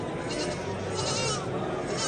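Goats, kids and sheep bleating at a busy livestock bazaar, a dense steady crowd of overlapping animal calls with market noise throughout.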